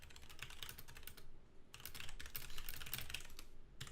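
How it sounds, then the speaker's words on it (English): Rapid clicking of a mechanical computer keyboard during a podcast recording, two bursts of steady typing separated by a brief pause, close and moderately loud with no talking. "I'm trying to keep myself muted when I type so the whole stream doesn't hear clickety"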